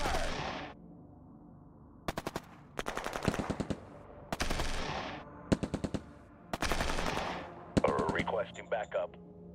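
Rapid bursts of machine-gun and rifle fire from troops in a strategy video game, several loud volleys separated by short pauses, with a brief radio-style voice near the end.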